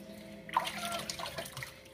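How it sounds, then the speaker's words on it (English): Water poured from a small cup over a hairless Sphynx cat during a bath, a steady close splashing trickle over faint room hum, running for over a second. "I'm going to take the little cup of water and pour it on her little body"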